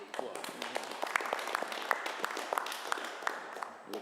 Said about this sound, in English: I'll give them a round of applause.